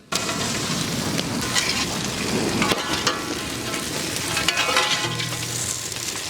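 Onion and capsicum sautéing in a large pan at an outdoor village kitchen for fried egg idli, a dense, loud, continuous sizzle with scraping stirs throughout, close and without speech.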